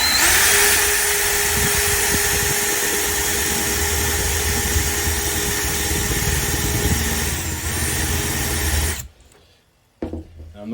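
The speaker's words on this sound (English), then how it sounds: "now I just need to make a pilot hole for the trim router" A router cuts a pilot hole in expensive plywood during a narrowboat wall-lining fit-out: a loud, steady motor whine with a constant tone runs for about nine seconds, then cuts off abruptly, followed by brief clatter.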